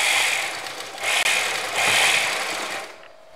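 A sewing machine runs a continuous stitching whir along folded kurta fabric, steady and close, dipping briefly midway and stopping near the end.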